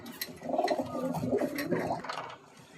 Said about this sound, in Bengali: এগুলো বিডার পায়রা আছে আমার বাড়ির